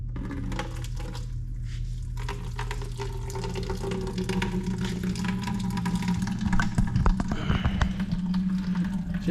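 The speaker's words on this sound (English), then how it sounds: "so I'm going to drain this water out and see what it looks like." Water drains out of a Caterpillar 299C skid steer radiator in a steady, close splashing stream that thickens and grows slightly louder toward the end, with a low engine-like hum underneath.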